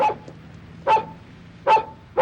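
A dog barks four times in short, evenly spaced bursts, close and fairly loud, with quiet room tone between the barks and no one speaking.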